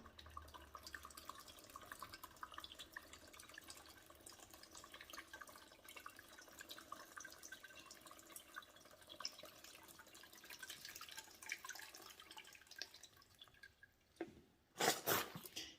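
Water drips and trickles from a rock tumbler barrel as it is poured out, quiet scattered splashes over a faint background, ending with a brief louder clatter near the end.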